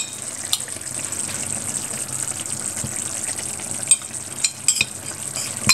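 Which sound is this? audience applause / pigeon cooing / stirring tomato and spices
stirring tomato and spices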